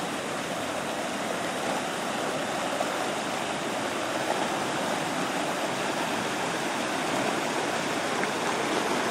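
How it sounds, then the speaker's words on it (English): A fully flooded creek rushing steadily, a dense, continuous roar of moving water close by with no voices over it. "here's the creek, fully flooded, to the point where we can't get across."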